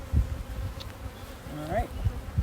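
Honeybees and drones hum in an open beehive, a close continuous buzz with individual bees swelling past now and then.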